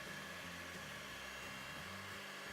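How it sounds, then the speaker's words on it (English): An electric hand mixer whisks banana cake batter in a bowl, giving a steady, faint motor whir with a slight pulsing hum that runs unbroken, with no talk over it. "Here I am using a hand mixer and whisking it very well until it gets well combined."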